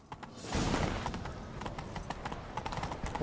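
Horse hooves clip-clop at a gallop in The Witcher 3: Wild Hunt Next Gen, a steady rapid rhythm of hoofbeats that stays loud and close throughout, with no talk over it.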